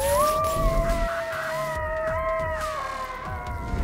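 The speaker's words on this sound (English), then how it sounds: "When a sharp, ungodly howl rattles your insides," A coyote lets out a sharp, drawn-out howl, its wavering tones rising and bending over a few seconds, loud and close against a steady background rumble.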